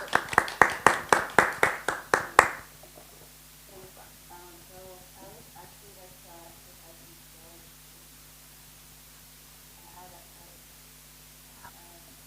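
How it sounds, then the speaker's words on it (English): A small audience at a science lecture gives a short burst of sharp, rhythmic claps that stops abruptly after a couple of seconds, leaving quiet room noise with faint murmuring afterward. "warm round of applause."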